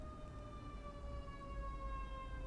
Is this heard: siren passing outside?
yes